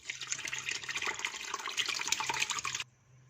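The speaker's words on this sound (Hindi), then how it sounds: "पनीर को छान लेते हैं। इसके लिए छलनी के ऊपर मलमल का कपड़ा ये डाल देंगे।" Curdled milk soured with vinegar is poured through a muslin cloth laid over a sieve while making khoya, giving a close, steady splashing pour for about three seconds before it stops.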